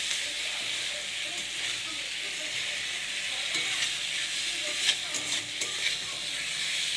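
Whole fried pointed gourds stirred in hot spiced oil, a steady close sizzle with occasional scraping clinks of the spatula, no voices.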